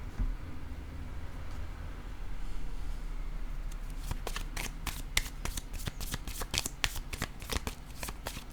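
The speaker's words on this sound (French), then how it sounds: "je vais piger une carte" Tarot cards being shuffled, a soft rustle at first that turns into a quick run of crisp riffling slaps, close and unaccompanied by talk.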